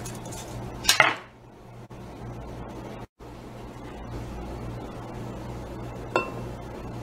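Chopped beet going into a blender jar, with a sharp clink of utensil on glass early on, then quiet kitchen clatter and another light clink near the end.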